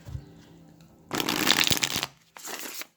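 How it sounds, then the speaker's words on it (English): A tarot deck is riffled and shuffled by hand, a dense papery flutter lasting about a second, then a short pause and a second briefer burst of card shuffling close by. "Let me just give it a good shuffle here"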